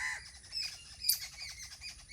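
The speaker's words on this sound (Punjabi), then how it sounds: "ਚਿੜੀਆਂ ਬੋਲਦੀਆਂ ਬਹੁਤ" Sparrows chirp in a quick scatter of sharp, bright calls, several birds close by with brief gaps between bursts.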